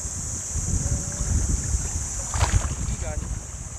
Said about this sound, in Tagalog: Yung tunog, yung bawat tunog ng tubig dito talagang nakakaantok.